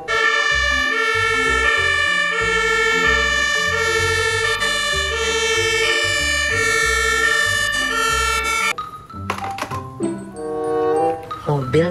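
A toy fire truck's siren plays a loud, steady electronic melody of wailing tones, then gives way to clattering, mixed sounds near the end.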